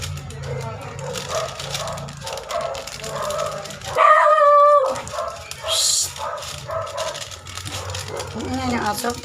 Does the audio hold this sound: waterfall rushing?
no